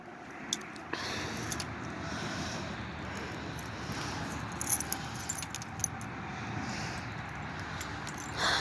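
Keys jangle and clink in short bursts, close by, over a steady low background rumble, with a few sharper metallic rattles partway through.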